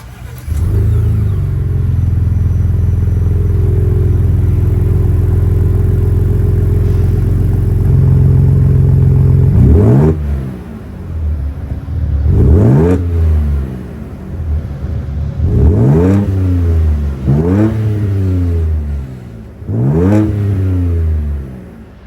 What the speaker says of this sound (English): Let's fire up this 3-liter twin-turbo V6 and hear how she sounds.